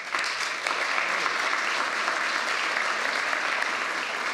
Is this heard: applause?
yes